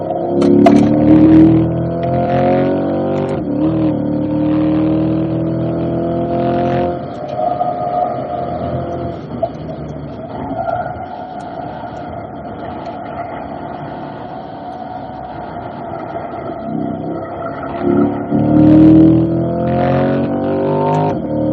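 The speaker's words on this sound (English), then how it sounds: "Those tires are making noise all the time." Loud tire and road noise from a Chevrolet C8 Corvette driven fast on a race track, with rising and falling engine tones and whining tires throughout, close and continuous.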